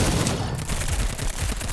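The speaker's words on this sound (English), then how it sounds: "a ton of the enemy forces just got destroyed by the initial bombardment volley" Dense bombardment volley of mortar and gunfire from the Girls' Frontline game, a continuous loud wall of overlapping blasts and crackling shots with no gaps, heavy low rumble running the whole time.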